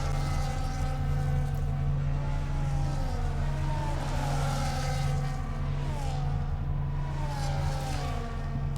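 Race cars at the Azerbaijan Grand Prix drone steadily, with a constant engine whine and shifting pitch lines as several cars pass through the street circuit, loud and continuous throughout.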